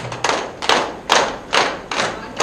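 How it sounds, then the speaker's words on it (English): A group of people at a teachers' empowerment session clap in unison, five sharp, evenly spaced collective claps about half a second apart, close and loud with short silences between. "All of you can clap once."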